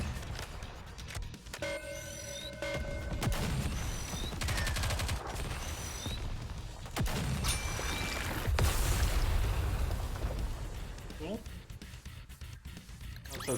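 Gunfire from a battle in the shooter game Nikke: Goddess of Victory, with bursts of rapid shots rattling through the clip alongside game music, effects and talking voices.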